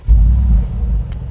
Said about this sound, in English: V8 comes into life